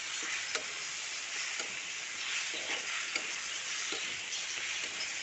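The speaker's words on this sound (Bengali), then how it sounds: "কষানো হচ্ছে কষানো হয়ে গেছে লেগে যাচ্ছে নিচে" Green jackfruit sautés in a pan, sticking to the bottom as it cooks down: a soft, continuous sizzle with faint rhythmic scrapes of stirring, quiet and steady.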